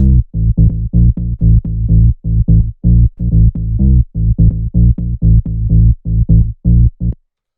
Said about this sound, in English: So then we have the bass line, which sounds like this.